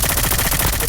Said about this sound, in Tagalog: May tao doon sa taas, oh. Baril-baril siya doon, oh.